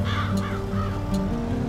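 Crows cawing in the Farming Simulator 22 game, a couple of short harsh calls over a steady low engine drone from farm machinery in a field.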